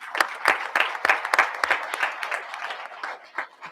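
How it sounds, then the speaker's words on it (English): A room of people at a public school board session clap their hands, a scattered burst of individual claps with a few sharper hits standing out, fairly close and loud, with no talking over it. "now give yourself a hand clap"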